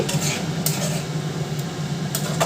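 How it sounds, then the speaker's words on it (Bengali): Potol curry stirred in a pan after garam masala powder is added, with metal spoon clinks and scrapes against the pan over a low, soft sizzle. "এখন দিয়ে দিলাম গরম মশলার গুঁড়ো এটাকেও নাড়াচাড়া করে নিচ্ছি"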